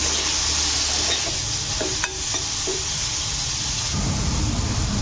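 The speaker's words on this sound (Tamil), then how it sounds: "பீர்க்கங்காய் கொஞ்சமாக மிளகாய் தூள் போட்டுட்டு வதக்கிடலாம்" Ridge gourd sautéed with chilli powder fries in a pan with a steady, loud, hissing sizzle, with a few light stirring clinks over the constant frying.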